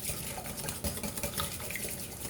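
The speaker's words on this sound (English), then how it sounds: "So I just whisk it." Banana pudding mix being whisked in a bowl, a steady run of soft scraping and clinking strokes for a couple of seconds, close and moderately loud, with no talk.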